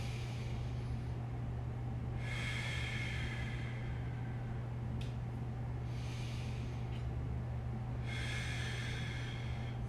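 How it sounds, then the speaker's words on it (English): Slow, deep breaths drawn in and let out during a mobility routine for the neck and lats, three long airy breath sounds spread over ten seconds above a steady low background hum. "take a nice deep breath in to our abdomen, and breathing out, really focusing on that breath"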